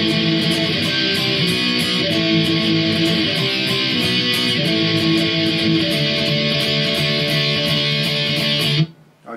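Electric guitar plays a song's pre-chorus over a jam track, with chugging rhythmic chords and a steady beat, loud and upfront with no talking, stopping abruptly at the end.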